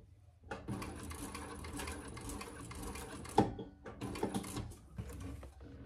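A Thor sewing machine runs decorative stitching in steady, rapid bursts, close and fairly loud, with a brief pause and a sharp click midway before it resumes.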